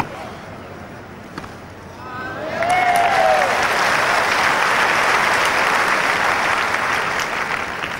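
Crowd applause rises and fills the air at Wimbledon's centre court during a 1989 women's tennis match, Graf against Seles, swelling after a quiet start into sustained loud clapping with a faint whistle.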